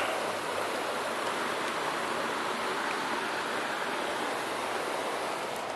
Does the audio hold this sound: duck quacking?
no